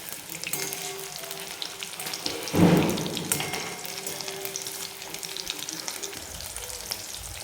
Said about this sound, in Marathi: एक पाच मिनिट आपल्याला चांगलं ह्याला मिडियम गॅसवर तळून घ्यायचं आहे